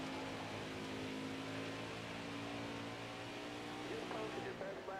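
A NASCAR Heat 5 race car engine drones steadily at high revs with its throttle worked, a continuous buzzing tone under people talking.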